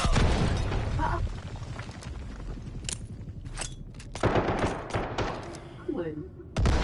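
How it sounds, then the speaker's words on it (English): Grenade blasts and heavy gunfire in a Delta Force Black Hawk Down battle, loud booming bursts and rapid shots overlapping close by, with shouted voices under the fighting noise. "Throwing frag! Grenade! Move!"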